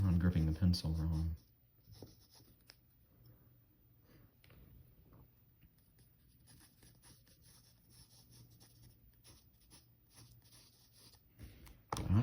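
Pencil scratching on paper during a head-drawing exercise, a soft, close, intermittent scraping of graphite strokes after a brief burst of louder noise, continuing quietly until a loud sound returns at the end.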